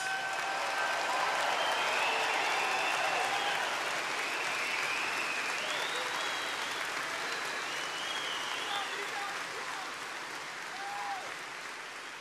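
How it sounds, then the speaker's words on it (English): Sustained applause from a large crowd at an NRA convention keynote speech in Atlanta, dense clapping with scattered cheers and whistles, gradually fading slightly toward the end. "we want to give them a big, big, beautiful round of applause"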